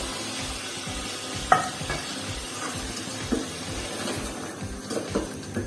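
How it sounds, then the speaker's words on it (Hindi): Mutton and chopped round gourd (tinda) with dried coriander, red chili powder and salt fry in a pan, giving a steady sizzle broken by repeated stirring scrapes and clinks, close up and with nobody talking. "टिंडों की और गोश्त की अभी हमने मजीद 5 से 6 मिनट और भुनाई कर लेनी है"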